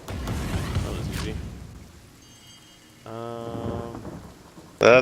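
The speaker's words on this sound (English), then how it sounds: "That's lightning." Rain falls steadily in Divinity Original Sin with a low rumble of thunder. A tonal game sound joins partway through, and a sharp burst comes at the end.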